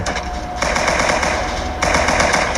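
A golden Thompson submachine gun in Roblox fires in rapid continuous automatic bursts, loud and dense, with a brief change in intensity between the stretches of fire and no talking.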